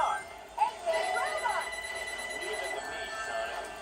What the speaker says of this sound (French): Ah là, le téléphone sonne.